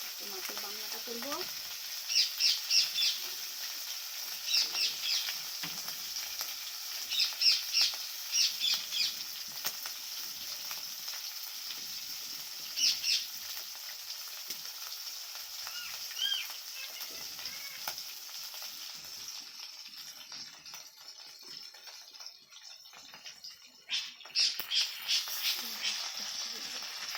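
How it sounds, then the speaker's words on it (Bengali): Fish roe frying in a pan, a steady close sizzle with intermittent crackling bursts throughout, briefly quieter toward the end before the spitting picks up again. "ডিমটা ভাজা হবে, ডিম ভাজা ভাজা হয়ে এলে মাছের রান্নাটা করবো।"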